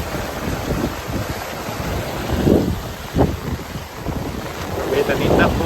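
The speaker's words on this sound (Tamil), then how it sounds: "என்னால் கொஞ்சம் அளவுக்கு காட்டுறேன் தண்ணி எவ்வளோ ஃப்ளோ போகுதுன்னு." Floodwater rushes forcefully past a dam-like barrier during a cyclone red alert near Chennai, a continuous broadband roar overlaid by heavy wind buffeting on the microphone, with swells and gusts rising and falling.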